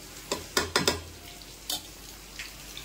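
Ingredients frying in a pan for mango rice, with a soft sizzle under several sharp clinks and scrapes of a spoon stirring against the pan.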